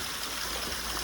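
Rainwater from a heavy downpour running off into a drain at a house under renovation, a steady broadband rush and trickle that stays even and continuous throughout, with no voices.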